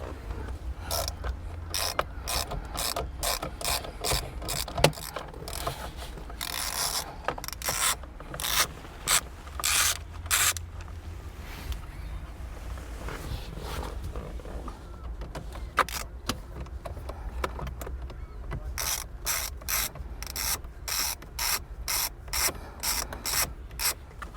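Screwdriver turning a T30 Torx screw out of an Acura RSX steering wheel during airbag removal, giving a close, steady run of rapid ratcheting clicks and rubbing metal scrapes with short pauses, with no talking.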